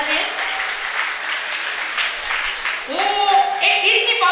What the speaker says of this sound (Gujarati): તો જોરદાર તાળીઓથી બધાને